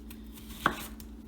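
A knife cuts through an onion on a cutting board in a quiet kitchen, a single soft chop landing once against faint background hum, with no talking.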